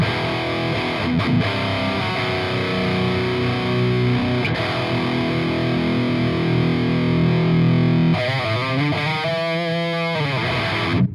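Heavily distorted metal guitar riffing through an ENGL Retrotube 100 E675 tube amp, a loud, dense, continuous stream of chugging chords and palm-muted riffs lasting about eleven seconds.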